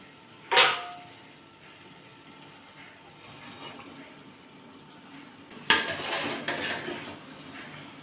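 Chunks of meat dropped into a simmering curry in a pot whose oil has separated, giving a sharp clatter and splash early on, then a busier burst of stirring and pot scraping later, close up with no talk.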